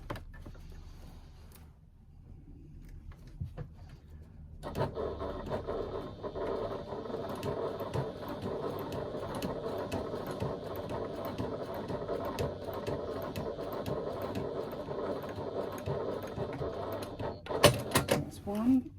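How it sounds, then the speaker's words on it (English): A sewing machine runs in one long continuous stitch along the edge of a lining panel for about thirteen seconds, steady and close, followed by a few handling clicks. "I'm going to stitch along this edge, but I'm only going to stitch up to those marks that I've made"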